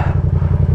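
A motorcycle engine idles close by, a steady low rhythmic putter that chugs evenly through a short moment with no voices.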